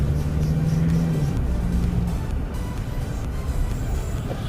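A Mitsubishi Triton pickup with a 2.4-litre petrol engine and automatic gearbox cruising, giving a steady low engine and road rumble from inside the cab, with a brief droning tone early on and no talking.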